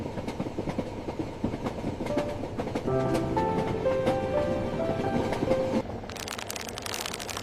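A train rolls steadily along the rails with a rhythmic clatter and rumble, then a brief metallic squeal, heard from close by.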